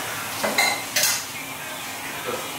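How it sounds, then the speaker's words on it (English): Dishes being washed by hand, with a few short clinks and scrapes of cutlery against pots in quick succession, fairly close by. "Doing some dishes."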